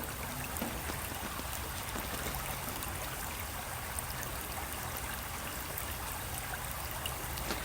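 Water poured over a lithops in its pot runs through the soil and drains out in a steady, faint trickle and hiss, with no voices.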